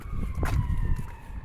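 A fire truck siren sounds on a snowy city street after a big storm, a steady wailing tone held across the clip, moderately distant under low rumbling traffic noise.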